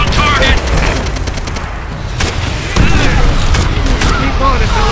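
Rapid bursts of video-game gunfire from Call of Duty: World at War, loud and continuous, with repeated sharp shots and a deep boom partway through, layered over a dense battle din.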